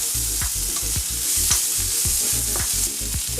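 Sliced onions sizzle steadily in hot oil in a pan, with a spatula stirring in a quick, regular rhythm of close scrapes over the continuous frying hiss; no talk.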